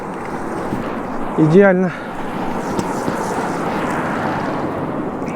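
Wind buffets steadily during a bike ride in Yakutsk as a loud, continuous broadband rush, with someone speaking briefly over it.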